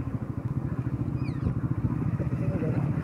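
A motorbike on a town road in Gumla, Jharkhand, slows to a stop, its engine chugging in a steady, close, pulsing rumble while people talk over it.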